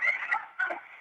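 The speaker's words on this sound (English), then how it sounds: "You hear him screaming? That was the cat." An angry cat screams in a house, giving two shrill, strained yowls in quick succession, fairly close and alone.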